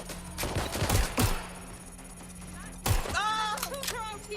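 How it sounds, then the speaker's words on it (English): Gunfire in the game Watch Dogs: Legion: a cluster of sharp, heavy shots in quick succession, then a lone shot a moment later, followed by a voice speaking over the lingering ambience. "Taking fire!"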